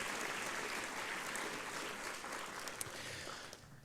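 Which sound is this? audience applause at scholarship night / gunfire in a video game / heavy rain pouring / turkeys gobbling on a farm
audience applause at scholarship night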